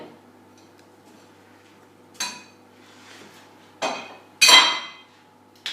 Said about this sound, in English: I'm going to put my flour into the bowl with half a teaspoon of salt and my butter,